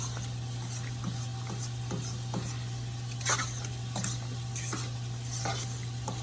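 A table fork stirring a sauce mixture, quick repeated clinks and scrapes against the bowl in an irregular rhythm over a steady low hum, close and clear, with no speech.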